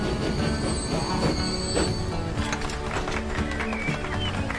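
Freight train braking in the Transport Fever 2 game at a freight yard, a steady loud rumble of rolling wagons with squealing wheels and metallic clatter, continuous throughout.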